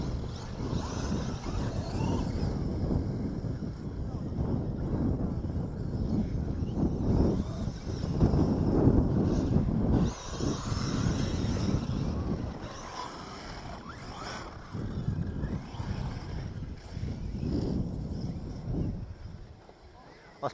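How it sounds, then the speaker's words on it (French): Steady wind buffeting the microphone with low rumbling gusts throughout, a voice speaking intermittently underneath. "Désolé si vous entendez du vent, c'est parce qu'il y a du vent."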